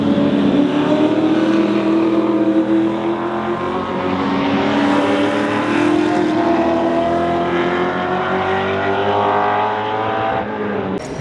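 TransAm race cars at Queensland Raceway, including the number 22 Mustang, roar past in a loud, steady V8 drone that holds for about eleven seconds. The pitch shifts slowly as they run closely together, with no talking.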